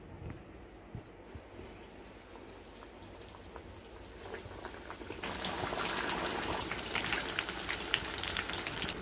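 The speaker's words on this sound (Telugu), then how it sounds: "ఆయిల్ వీటెక్కింది కాబట్టి ఇప్పుడు ఒక్కొక్కటిగా వదులుతున్నాం" Batter-coated raw banana slices for bajji are dropped one by one into hot oil and fry with a soft, bubbly sizzle that grows louder and busier partway through, with scattered crackles and pops.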